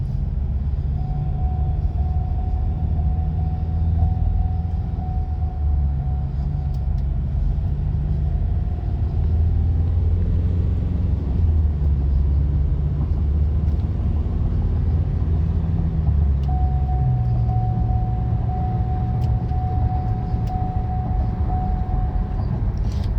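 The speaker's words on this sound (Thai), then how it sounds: "เดี๋ยวออกตัวใหม่ครับผม ครับผมกระตุกแบบเบาๆ นะครับ กระตุกเกียร์สอง" A Ford Ranger T7 pickup pulling away with a second-gear transmission jerk, heard as a steady low engine rumble and drivetrain drone from inside the cab, with no talking.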